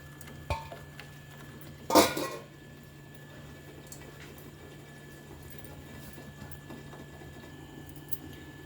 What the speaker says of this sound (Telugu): మూత పెట్టేసుకుందాం.